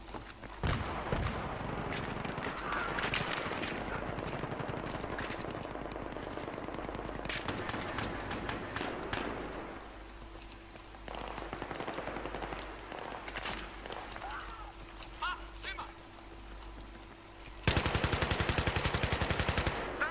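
Rapid automatic gunfire bursts and scattered single shots from a Battlefield 3 firefight, dense and loud throughout, with a sharper, louder volley near the end.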